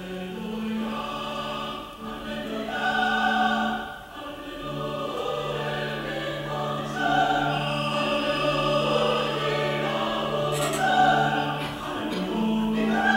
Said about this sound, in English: if you heard Psalm 150, the last of the 150 Psalms, sung in an American Reformed Jewish synagogue in 1961, it might sound like this